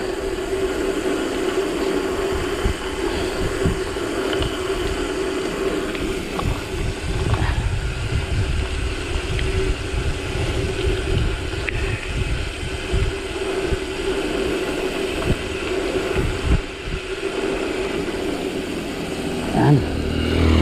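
Engine noise from a downhill road fills the scene, with oncoming motorcycles passing by at moderate distance amid steady traffic rumble.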